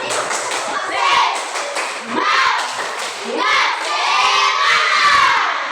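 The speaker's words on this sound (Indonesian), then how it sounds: "tepuk tangan dulu, tepuk tangan, semangat" A fifth-grade classroom of schoolchildren claps and shouts together in waves, excited voices and clapping rising and falling in several bursts close by.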